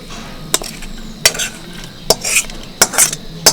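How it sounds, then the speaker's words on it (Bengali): Chicken momo filling stirred as it fries in a pan, with a utensil scraping and clinking sharply against the metal several times at irregular intervals over a soft, steady background sizzle. "এটা এরকম ভাবে একটু ভেজে নিলাম যাতে চিকেনের কাঁচা গন্ধটা চলে যায়"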